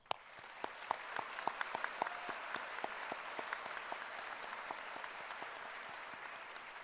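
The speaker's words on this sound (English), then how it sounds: "I invite everyone to join me in applauding their achievements" Graduates at a state college spring commencement ceremony are met with steady applause from the audience, sharp individual claps ringing out over a dense wash of clapping that holds evenly for several seconds.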